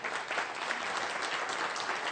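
Steady applause from an audience, dense continuous clapping throughout with no voices standing out.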